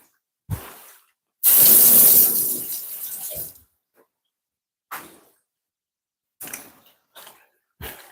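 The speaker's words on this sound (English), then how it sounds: "Spring onion, just going to wash this off a bit." Running tap water gushes loudly for about two seconds as a spring onion is rinsed under it, then tapers off, followed by a few short, quiet knocks and clatters nearby.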